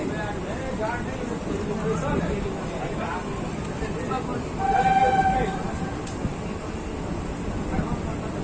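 Chhapra Intercity Express pulling out on Indian Railways behind a powerful locomotive, a steady rumble of rolling stock with a tonal horn or whistle swelling near the middle, heard over a background murmur of station crowd noise.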